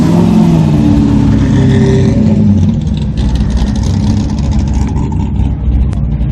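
A Chevrolet Corvette's engine revving loudly at a car auction: a close, heavy roar that climbs and falls through several revs, then settles into a rough, throbbing idle.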